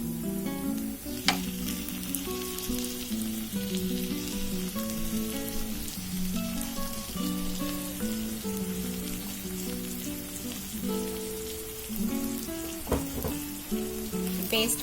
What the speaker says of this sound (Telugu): పేస్ట్ కొద్దిగా 2 minutes ఫ్రై అవ్వాలి.